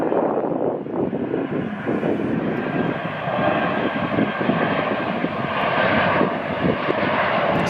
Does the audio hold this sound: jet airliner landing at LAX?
yes